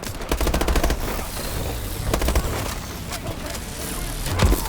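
Automatic gunfire in Call of Duty: Advanced Warfare: repeated loud bursts of rapid close shots with brief gaps, over a busy game background, ending with a heavy thump.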